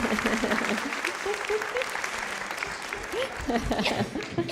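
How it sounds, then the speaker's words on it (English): Audience applause for a cooking demonstration guest, a steady wash of clapping throughout with voices and tonal sounds audible over it. "Round of applause for Edith Ezekiel."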